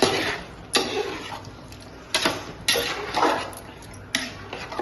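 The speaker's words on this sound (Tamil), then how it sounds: "இப்ப நல்லா வதக்கிக்கலாம்" Mint and coriander sautéed in a metal pot for biryani, with repeated scraping strokes of a ladle against the pot in uneven bursts over a faint background sizzle.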